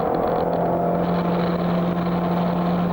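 A race car engine holds a steady, loud drone at Silverstone circuit, a continuous close hum with a constant pitch and no pauses.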